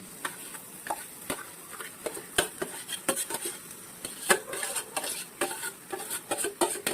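Mashed pav bhaji vegetables added to a pan of spiced mixture and stirred, a steady run of spoon scrapes and clacks against the metal pan over a light sizzle, close and rhythmic with no talking.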